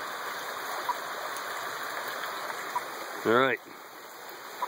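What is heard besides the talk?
mountain creek flowing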